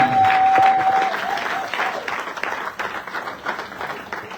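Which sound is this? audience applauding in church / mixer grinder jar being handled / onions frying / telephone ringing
audience applauding in church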